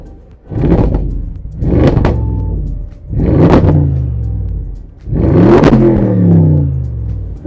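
An Audi RS7 with its original exhaust, engine warm, revs hard in four separate bursts, each a loud rising roar that swells then falls back to a rumbling idle, heard up close from behind the car.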